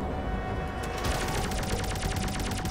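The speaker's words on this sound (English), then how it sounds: "See, so he shoots like lots of missiles." Rapid, dense volleys of missile launches and gunfire from a big ship in the space combat game Rodina, a continuous loud crackling barrage with a steady tone running underneath.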